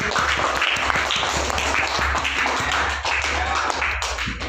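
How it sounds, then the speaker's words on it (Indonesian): Students in a classroom clap for a classmate named Haikal, a loud continuous round of applause with sharp individual claps over a low steady hum. "Give applause. Tepuk tangan untuk Haikal."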